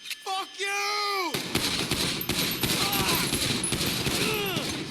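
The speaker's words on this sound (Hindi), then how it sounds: "ये तो मशीन गन लेके आ गया।" Machine gun fire in the GTA 5 video game comes in rapid, dense bursts of shots that continue through most of the clip. A voice is heard briefly at the start and again near the end.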